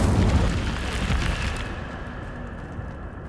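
A fire spell cast in the Hogwarts Legacy video game lets out a loud, rushing burst of flame that roars at the start and fades to a softer crackling hiss, with no talking.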